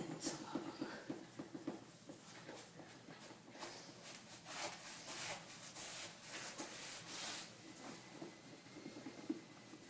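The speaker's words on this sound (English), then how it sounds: "Sometimes a lot of it's going to come out with just scrubbing it with the scrubby." A scrubby sponge scrubs a bathtub with steady, close rubbing strokes that continue throughout, rasping and uneven in rhythm with no talking.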